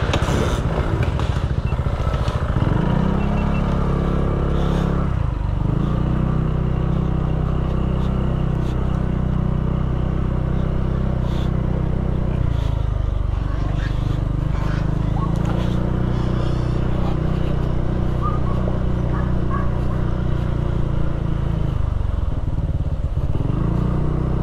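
Motorcycle riding along the road toward the Loklokan River campsite on Marilaque, engine droning steadily with repeated gear shifts and revving surges, loud and close, with rattling and wind buffeting throughout.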